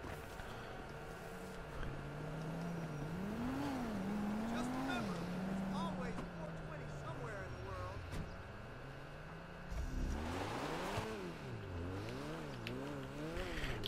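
Car engine in GTA V Online revving and shifting pitch as the vehicle accelerates, loud and continuous across the scene with a brief tire squeal; a person talks over the engine throughout.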